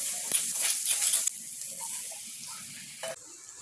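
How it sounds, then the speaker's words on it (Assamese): Vegetables frying in a pan with ginger and garlic give a loud, steady sizzle and hiss. A stir partway through causes brief scraping and a drop in the frying noise. "মাজত ধৰি আমি এতিয়া চব্জিখিনি এবাৰ লৰাই দিছোঁ।"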